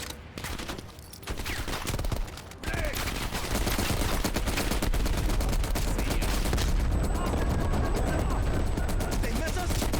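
An M60 machine gun fires in Call of Duty Black Ops Cold War during a Vietnam setting, with long loud sustained bursts and a short pause early on. Gameplay voices can be heard at times.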